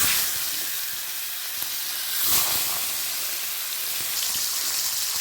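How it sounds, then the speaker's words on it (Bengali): Katla fish heads fry in hot mustard oil, making a steady, close, hissing sizzle that swells briefly partway through and continues without pause, with no voices. "সর্ষের তেলটা ভালো করে গরম হয়ে গেলে এর মধ্যে মাথাগুলো ছেড়ে ভালো করে কড়া করে ভেজে তুলে নেব।"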